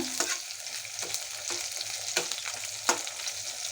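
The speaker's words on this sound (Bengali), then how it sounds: "কেটে গরম জল দিয়ে ধুয়ে নিয়েছি এখন এগুলা ফ্রাই করছি" Cut, washed latka vegetables fry in a pan with a continuous close sizzle, punctuated by regular stirring scrapes roughly every half second to second.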